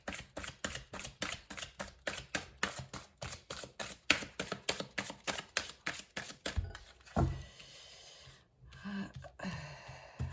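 Tarot cards are shuffled by hand in a steady run of quick, riffling flicks and slaps that repeat rhythmically at close range, then give way to a few softer card handling sounds near the end.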